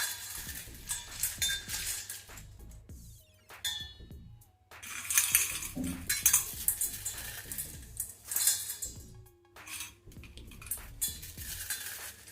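Crispy fried snack mixture tipped into a bowl for a rava snack, giving dense rustling clinks and rattles in bursts with short pauses, close and moderately loud, no talking.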